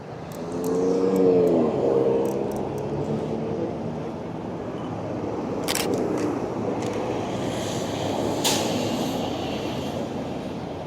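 Bus passing along a city street with people walking by, a rumbling engine swelling near the start then a steady broad roar of traffic with a couple of brief sharp clanks, faint voices underneath.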